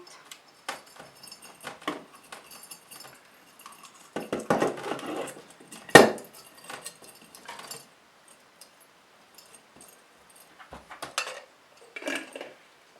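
Fairy lights are stuffed into a glass jar and a lid is put on, giving scattered rattles and jangles of the wire and bulbs against glass, a sharp clink near the middle, and quiet pauses between bursts.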